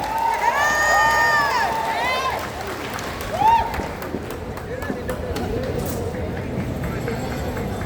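A crowd claps and cheers for a barangay captain at a prayer rally in Davao City, with steady broadband applause under a loud amplified voice.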